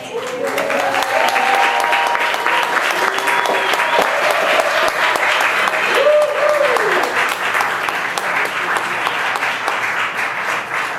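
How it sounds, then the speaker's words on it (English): Sustained, dense applause from an audience after a bow at a violin studio summer concert in New York City, steady and loud throughout with a few voices faintly audible within the clapping. "let's also take another bow because you guys didn't get applause"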